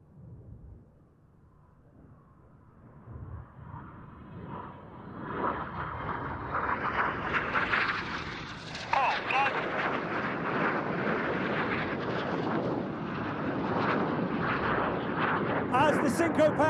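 RAF Red Arrows jets fly synchro double rolls at the RIAT 2024 air show. Their roar swells from faint to loud and sustained, with a commentator talking over it.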